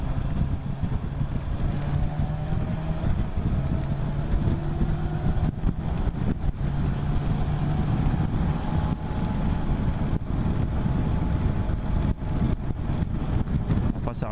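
Motorcycle ridden through rain, a steady broadband engine and wind rush with a droning tone holding throughout and close wind buffeting on the microphone.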